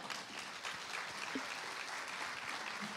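Steady applause from a concert audience welcoming a singer on stage, a dense, even patter of clapping that fills the whole stretch without a break.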